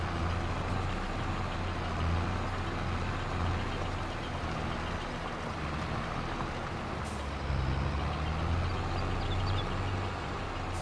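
A skid steer loader in Farming Simulator 22 on a manure-hauling farm, a steady low engine drone with rumbling hum running throughout, brief hissing air release partway, no talk.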